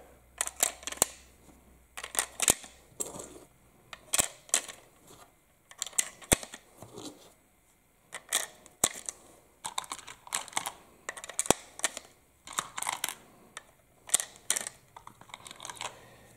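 Snap caps clicking one by one into a PSA AKV magazine for a CZ Scorpion EVO 3, a steady run of sharp, close, quiet snaps and clacks at a tabletop with no talking.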